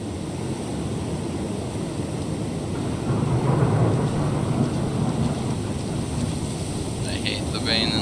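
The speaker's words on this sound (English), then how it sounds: "I hate the rain in this game." Steady heavy rain with low rumbling thunder in the medieval video game Gloria Victis, a continuous wash of rainfall with a rolling swell of thunder near the middle.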